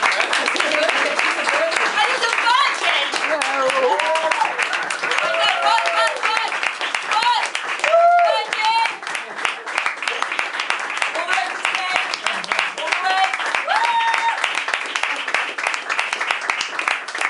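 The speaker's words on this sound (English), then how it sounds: "So if we could give a very big round of applause for Joseph, who is behind the camera." An audience gives a long, steady round of applause with dense, continuous clapping, and voices can be heard over it throughout.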